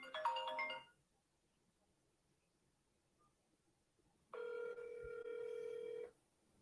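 An outgoing call to a business cell phone rings, one burst of ringback tone near the start and a longer steady ring a few seconds later, separated by silence.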